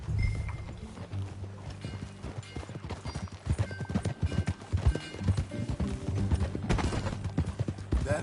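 Horse hooves clip-clop in rhythmic bursts as a rider moves along in the Red Dead Redemption 2 video game, with an occasional whinny and low ambient hum beneath.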